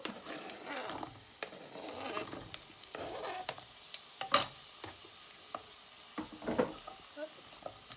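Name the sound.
chorizo frying and sizzling in a pan while stirred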